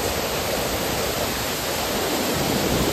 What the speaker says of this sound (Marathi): कसलं पाणी पडतंय भाई